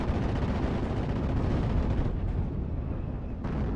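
An aircraft strafing run in the World War II strategy game Steel Division 44, with a dense, continuous roar of gunfire and explosions blending into a loud, rumbling wall of sound, briefly dipping before resuming.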